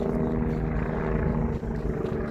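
A helicopter passes over a football stadium with no match being played, its engine and rotor giving a loud, continuous drone with no speech.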